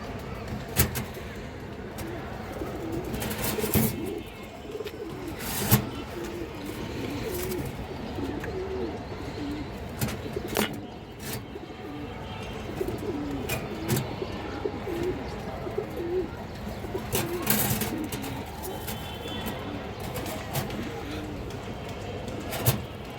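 Fancy pigeons, including a female bird, coo in low repeated phrases in a loft with mixed breeds, overlapping murmurs throughout, punctuated by occasional sharp knocks and clatters, with someone talking intermittently.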